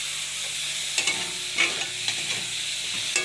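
Chopped tomato sizzles in a hot pan alongside boiled taro greens being cooked, with a soft continuous fry broken by several sharp scraping stirs of a spatula against the pan.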